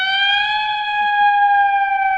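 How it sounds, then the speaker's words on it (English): A British European-style police siren sounds within a song recording, a bright sustained tone holding steady and loud for a couple of seconds. "that's the British version, the European version of the siren"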